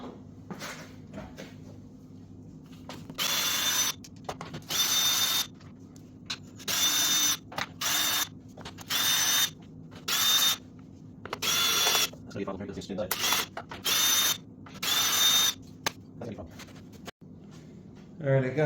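A ratchet loosens a bolt on a Harbor Freight Predator 9500W inverter generator, model 57080, in a long series of close, rapid clicking bursts separated by brief pauses.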